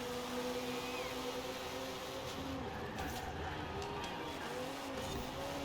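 An Audi race car in a racing video game drives at speed and brakes hard, its engine tone rising and falling with tyre squeal, steady and close throughout.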